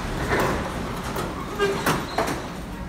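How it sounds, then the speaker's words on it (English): An SMRT C151 train rumbling and clattering as it pulls away from Novena station, with clanks and a brief squeal over a steady low roar; faint voices mix in. "train is leaving"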